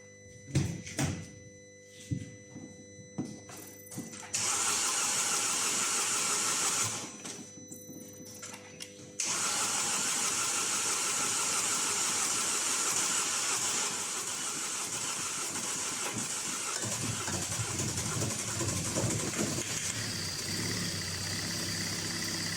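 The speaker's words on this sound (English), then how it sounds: "the engine just turned on" A Mercedes-Benz car engine whirs and catches, then settles into a steady, loud running drone that continues to the end.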